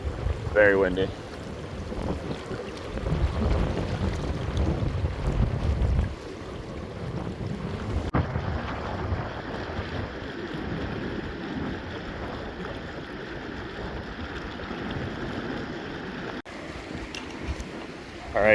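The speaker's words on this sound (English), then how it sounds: "It is very windy." Heavy wind batters a fishing boat on a river, a continuous loud rumbling roar that eases slightly partway through, then swells again at the very end.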